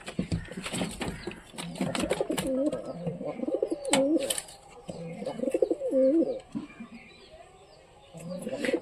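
Pigeons kept in a loft, several birds cooing in low, rolling repeated phrases at close range amid shuffling and wing flutters.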